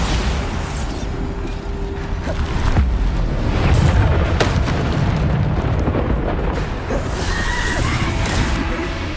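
Bombarda explosion spells in the Hogwarts Legacy video game: a dense, continuous roar of blasts and rumbling booms with sloshing, crackling debris, swelling loudest around the middle and never fully settling.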